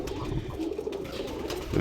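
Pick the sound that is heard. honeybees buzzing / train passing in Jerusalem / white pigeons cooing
white pigeons cooing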